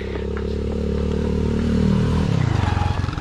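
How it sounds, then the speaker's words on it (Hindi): Motorcycle passing by on a quiet road near an ancient hill temple, its low engine rumble swelling closer and then chugging away, with no talk. "एक बाइक जा रही है"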